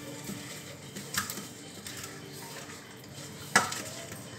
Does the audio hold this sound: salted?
yes